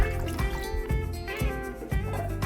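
Water poured into a pot for a lasagna and casserole dish makes a steady trickling, splashing stream with small pulses, close and moderately loud, with no talking.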